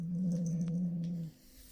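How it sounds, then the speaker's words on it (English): A kitten growls over a toy, a single low sustained growl lasting about a second, close and fairly quiet, then it falls silent. "So her growling is entirely for the toy"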